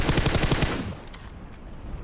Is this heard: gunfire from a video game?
yes